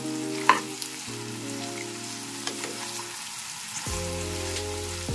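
Kachki fish frying on a high flame in plenty of oil, giving a steady sizzle with a sharp clink near the start, under a sustained tonal hum that shifts pitch.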